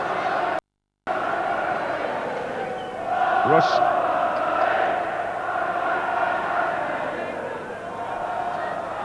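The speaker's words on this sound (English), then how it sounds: "Crowd are chanting for Barry Venison because he hasn't played in the first team for nearly 10 months" A football crowd at Anfield during a Liverpool UEFA Cup tie, a broad roar of voices rising into a sustained chant that carries on steadily, with a commentator speaking briefly over it.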